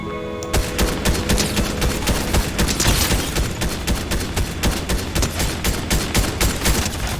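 Sustained automatic gunfire in a first-person shooter video game, loud rapid bursts of shots firing almost continuously after a brief quiet start.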